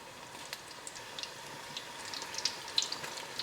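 Onion pakoras fry in hot oil, giving a faint, soft sizzle with scattered small pops and crackles and no voices.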